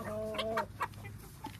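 Fibromelanistic hens and a rooster in a pen give short, faint clucks, a brief tonal call followed by a few soft scattered notes close by.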